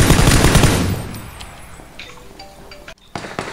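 Gunfire in PUBG, a loud close burst of automatic fire fading into reverberation, then a short silence and a few more scattered shots.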